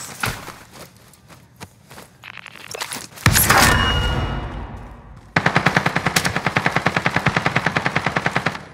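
Gunfire in Call of Duty Warzone: scattered single shots and footsteps, then a loud blast with a fading rumble, followed by a long burst of rapid automatic fire close at hand.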